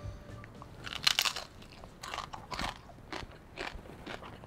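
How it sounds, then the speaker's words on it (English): Crispy deep-fried pork pata is bitten and crunched at close range: a sharp crackling bite followed by several softer crunches and chewing sounds. "Now that's the sound you wanna hear when you have fried pork."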